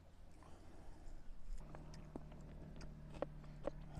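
A crunchy Royal Majestic peach being bitten and chewed, faint close-up crunches and wet chewing clicks repeating irregularly against a quiet background.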